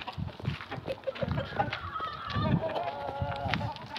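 Farmyard geese honking in a lively, overlapping chorus close by, with chickens nearby, loud nasal calls tumbling over one another with little pause.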